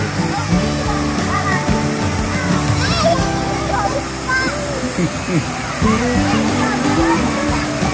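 Pinsal Falls in Santa Maria, Ilocos Sur, pours in a continuous loud rushing roar of falling water, with people swimming and voices and splashing mixed in throughout.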